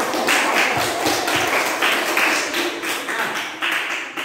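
Classroom applause for student groups at a junior high school, a steady dense wash of many hands clapping together, loud and sustained throughout with no talk.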